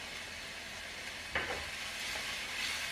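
Scotch bonnet pepper sizzles in a pan as it is stirred, a steady faint frying hiss with a brief scrape of the spoon partway through.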